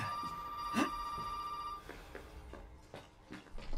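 A telephone rings in the video game Resident Evil 7 on PC, a steady electronic ring for the first half before it cuts off, leaving quieter in-game thuds and ambience.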